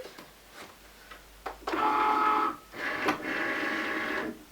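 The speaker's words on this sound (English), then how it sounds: "Now I'm going to load this into the machine." A vinyl cutting machine draws in a loaded cutting mat, giving a couple of short mechanical whirs and clicks, close and moderately loud, with no talking.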